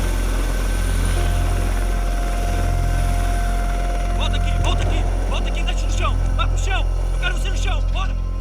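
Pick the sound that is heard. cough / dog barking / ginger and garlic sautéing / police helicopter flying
police helicopter flying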